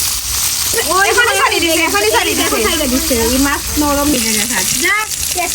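Fish sizzles steadily in a frying pan at a late-night outdoor courtyard cookout, the frying hiss continuous and close beneath animated voices.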